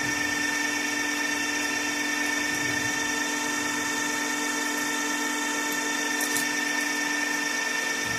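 A drill bores into a stainless steel chiminea flue lubricated with cutting fluid, giving a steady high-pitched whine with a strong constant tone and no speech over it.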